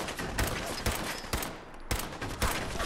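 Gunfire rattles in Fallout 4, with repeated sharp shots and bursts spaced through a busy, loud combat mix.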